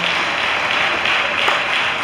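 A church congregation cheers and applauds together at a district overseers' installation service, a steady wash of clapping and voices lasting a couple of seconds.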